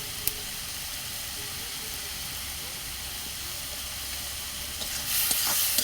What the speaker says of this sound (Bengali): নাড়ি চেপে নেব আমি